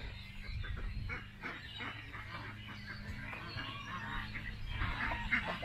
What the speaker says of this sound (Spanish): Estas son gallinas. Gallinas ponedoras.